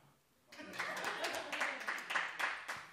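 A comedy club audience at a live stand-up show breaks into applause for the comedian, a steady crowd clapping that swells in and holds at moderate, slightly distant level.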